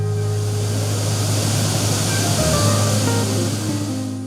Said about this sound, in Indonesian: Selain itu, arus air yang turun cukup deras.